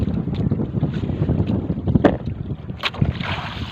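Steady wind buffets the microphone with a constant roar on a fishing boat at sea, mixed with rumbling motor and water noise, no voices.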